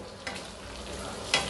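Sponge gourd (patola) fries in a pan with a steady, close sizzle and a couple of brief stirring scrapes.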